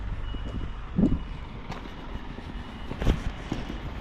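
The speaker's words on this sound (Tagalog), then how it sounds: "yun ang truck ko" A truck backs up at a customs unloading area, its reversing alarm beeping faintly in repeated pulses over low engine rumble, with a couple of louder clunks.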